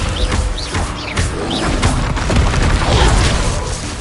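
Heavy slamming impacts and crashes from the Descendo spell in Hogwarts Legacy, a loud, dense stretch of booming thuds and whooshing spell effects with no pauses between them.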